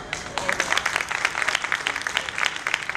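A few people at an anniversary meeting clap unevenly, the light scattered claps carrying on for a few seconds in an indoor room.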